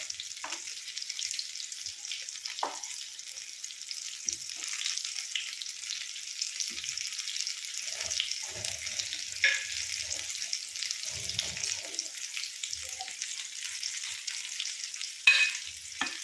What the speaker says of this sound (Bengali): প্রায় হয়ে এসেছিলাম একটু লাল লাল করে ভাজবেন